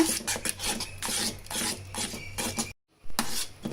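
A spoon stirring semiya custard with sugar in a pot, repeated close scraping and rasping strokes in an uneven rhythm, broken by a brief pause before the stirring resumes.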